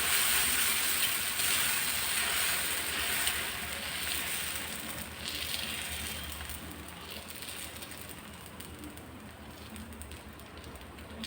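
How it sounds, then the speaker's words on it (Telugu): Pesarattu batter of green gram sizzles and crackles on a hot pan in a continuous close hiss that slowly fades in loudness, with no voices. "ఇప్పుడు పెసరట్టు వేసుకుందాం."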